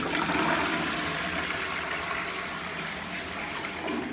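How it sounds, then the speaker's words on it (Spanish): A newly installed wall-mounted toilet in a freshly finished bathroom flushes with a loud, steady rush of water that stays even throughout, close by and alone. "Y aquí tenemos este toilet que es un toilet de pared."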